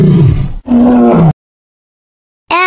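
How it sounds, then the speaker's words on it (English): A lion roars in two deep, strained bursts close by, followed by a pause of silence before a brief higher growl starts at the end. "L for lion."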